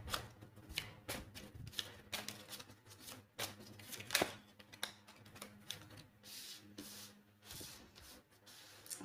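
Tarot cards are shuffled by hand for a spread, a close run of rapid papery riffles and soft slaps in irregular bursts, with no talk over them.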